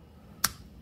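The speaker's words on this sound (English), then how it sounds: "You hear that clicking sound. That's it locking these clips in place." A single sharp, quiet click from a Harley wiring harness connector's locking clips snapping into place, heard alone against a faint background.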